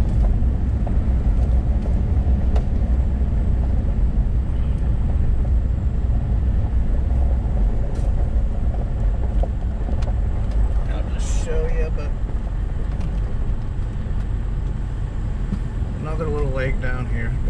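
A car drives along a road to a camp with steady, close engine and road rumble, and wind buffets the microphone throughout. Faint voices come in near the end.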